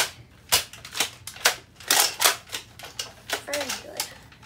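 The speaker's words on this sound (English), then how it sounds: "Pretty fast reloading, very nice, beautiful sound reloading." A Nerf Cycloneshock Mega toy blaster being reloaded, a series of sharp plastic clacks and snaps in an uneven rhythm, close and fairly loud, with someone talking between them.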